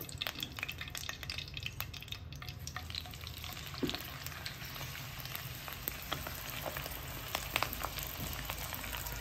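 Gongura leaves added a little at a time to about 200 grams of hot oil in a kadai, giving a steady, soft sizzle with scattered pops and crackles throughout, no voices.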